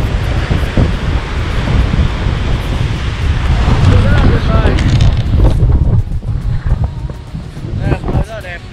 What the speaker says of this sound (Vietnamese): đứng ở đây và thưởng thức những cái con sóng thì đúng là rất là tuyệt vời đấy